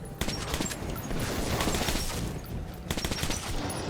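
Rapid bursts of gunfire in Metro 2033 Redux crackle in quick succession with brief pauses, steady and fairly quiet, with no talking.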